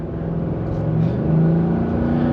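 A 2024 Ford F-350 XLT dual-rear-wheel single cab with a 7.3L V8 accelerates, a steady low engine drone building gradually in loudness from inside the cab, with no talking.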